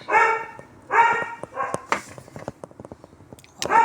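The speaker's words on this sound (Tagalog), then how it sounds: "ingay ng aso." A dog barks several times nearby, loud sharp barks separated by brief pauses, with some clattering in between.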